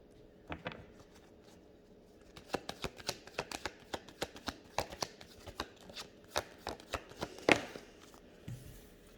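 Tarot cards shuffled and pulled in a rapid series of crisp riffling slaps, close and fairly quiet, with one sharper snap near the end.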